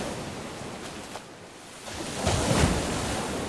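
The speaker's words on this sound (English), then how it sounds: "Fierce winds can whip the waves into destructive walls of water." Ocean surf rolls and crashes on a beach, a broad rushing wash that eases and then swells into a louder breaking wave, with wind noise and no voices.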